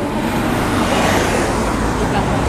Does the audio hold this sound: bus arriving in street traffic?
yes